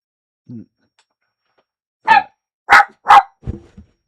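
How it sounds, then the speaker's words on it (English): Dogs bark in short separate bursts, one small yip first, then three louder close barks and a softer trailing woof, with quiet gaps between. "Dogs."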